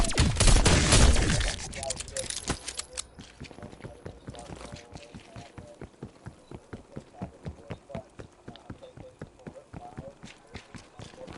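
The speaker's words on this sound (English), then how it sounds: "War machine firing for effect" The War Machine weapon fires in a PS5 zombies game: a dense loud burst opens, then blasts repeat in a steady, rapid rhythm, each shot sharp and punchy, with some clatter between.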